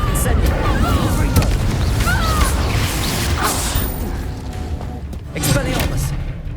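Fire spell cast in Hogwarts Legacy on PS5, a loud booming blast amid continuous game noise and combat effects, with a voice shouting over it.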